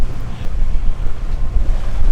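A catamaran motoring across a calm sea in about 5 knots of wind, with steady low engine rumble and continuous wind buffeting on the microphone, water washing faintly beneath.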